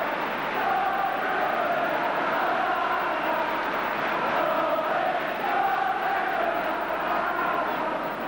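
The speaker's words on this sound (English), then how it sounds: "Well, the crowd really beginning to warm up as well." A large football crowd at an Arsenal v Leeds United match, a steady, broad roar of cheering and chanting that holds at an even level throughout, sounding distant and washed together.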